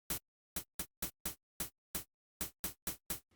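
Plucky white-noise one-shots from the Serum synth with the oscillators off, about a dozen short bright bursts that cut off quickly, in an uneven rhythm and alone.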